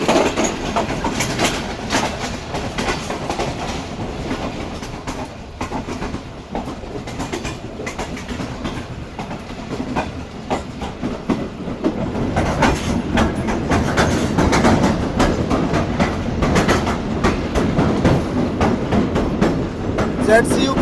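Karakoram Express running from Karachi to Lahore in winter, a steady rumble of wheels on track with rhythmic clickety-clack that grows heavier about halfway through, heard from on board.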